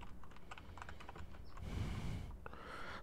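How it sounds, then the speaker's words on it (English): Quick bursts of keystrokes on a computer keyboard while typing into a Windows search bar, close and fairly quiet, with a short pause in the middle before the tapping resumes. "So we type in Control Panel into the search bar."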